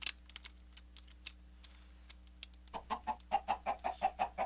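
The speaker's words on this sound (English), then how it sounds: "Chickens." Minecraft chickens cluck in a short series of soft, evenly spaced blocky clucks toward the end, preceded by scattered clicks and taps, with no talking.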